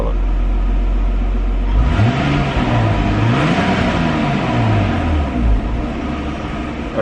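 A Nissan Stagea with a custom blast pipe exhaust and an adjustable muffler valve idles with a deep drone, then swells into a couple of throaty revs that rise and fall before settling back to idle.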